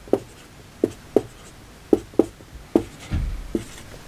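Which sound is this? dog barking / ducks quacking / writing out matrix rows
writing out matrix rows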